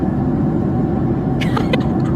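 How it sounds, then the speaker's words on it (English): Dense, steady airplane cabin roar high in flight fills the scene, a constant low rumble with a few faint brief clicks near the end. "It's plain super high up noise."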